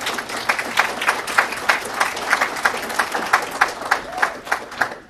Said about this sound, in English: Round of applause for Jared and Bart, please